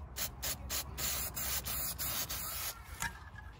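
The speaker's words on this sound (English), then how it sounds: "we're gonna spray some paint into these cracks just so they don't rust" Spray paint hisses from an aerosol can into the cracks of an inch-thick board during a Mercedes radiator swap, in a run of close, loud bursts with brief gaps between them.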